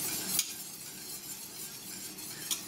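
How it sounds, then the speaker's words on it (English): A spoon stirs creamy asparagus soup in a pot on the stove, a soft continuous scraping and bubbling with a couple of light clinks against the pot rim, close and fairly quiet. "It is very important to keep stirring in this soup,"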